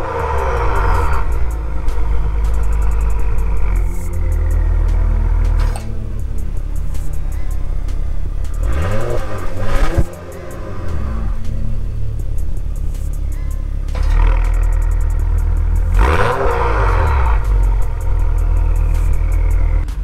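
Acura TLX Type S with its active exhaust system reinstalled runs at a steady, loud rumbling idle, with two sharp revs that climb and fall back, one near the middle and one toward the end, close to the car and with no talk.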